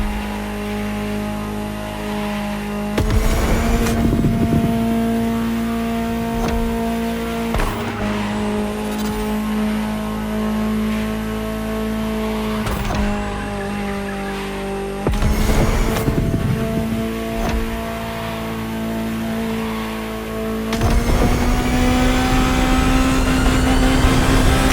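A high-revving Ferrari supercar engine in a video game roars steadily for a long stretch, pitch dropping and surging again at several gear changes, loud and close throughout.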